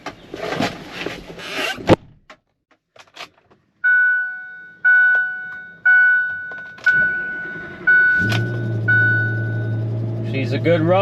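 A plow truck starts after a string of repeated warning-chime beeps, then its engine settles into a steady, close, low idling rumble, with no talking.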